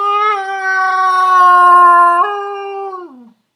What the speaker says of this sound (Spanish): sonaba como una ballena herida, como un animal de otro mundo, agonizando